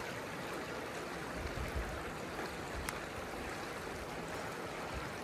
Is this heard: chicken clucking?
no